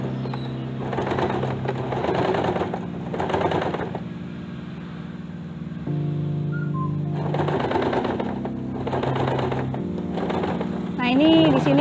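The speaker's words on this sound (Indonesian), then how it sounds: "Oke ya, kita mulai jahit." A sewing machine stitching a skirt runs in several short, fast rattling bursts separated by pauses, close and clear, while someone talks quietly between and over the runs.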